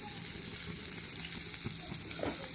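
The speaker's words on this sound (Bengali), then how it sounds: "তেজপাতা দিয়ে দিলাম" Bay leaves hit hot oil in a pan where a fish head has just fried, giving a dense, steady sizzle that stays even from start to finish, close up with no talking.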